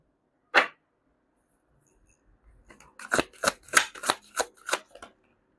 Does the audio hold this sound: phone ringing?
no